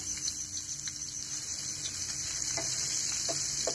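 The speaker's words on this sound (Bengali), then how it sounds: "তেলটা ভালোভাবে গরম হয়ে গেলে এর মধ্যে দিয়ে দেব গোটা জিরে, একটা বড় সাইজের পেঁয়াজ কুচি" Onions and whole cumin fry in hot oil with a faint, steady sizzle and scattered light stirring taps, underlaid by a high-pitched whine.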